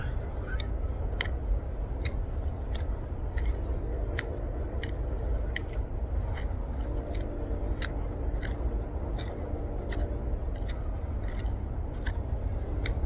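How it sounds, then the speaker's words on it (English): A handmade bushcraft knife carves a hole into a piece of wood, giving sharp, irregularly spaced scraping clicks and cuts over a low steady background, close and fairly loud. "I'm going to use my main bushcraft knife that I made"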